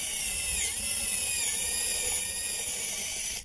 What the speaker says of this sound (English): drill right through shims